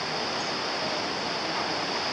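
Sea waves and surf at Saint-Leu on Réunion island, a steady broad wash of breaking water heard close and loud throughout, no voices.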